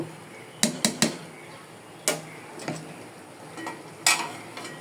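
Mutton being stir-fried and browned in a pot, with a soft background sizzle and a scattered series of sharp scraping and clanking spoon strikes against the metal, some in quick bursts.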